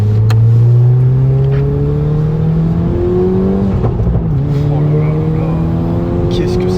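A Volkswagen Golf 6 GTI Stage 2 pulls hard in second gear, its engine note rising steadily in a loud, droning climb with a brief dip at a shift-like pause. Heard from inside the car, with voices present.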